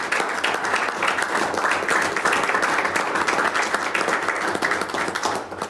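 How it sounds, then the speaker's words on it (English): Steady applause from a crowd at a city commission meeting, a dense patter of many hands clapping continuously at even loudness for several seconds, with no talking over it. "So a big round of applause, if you would"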